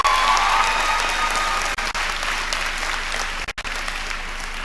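Convocation audience applauding in a large hall, a full, even roar of many hands clapping that continues steadily throughout, loud and close with no talk over it.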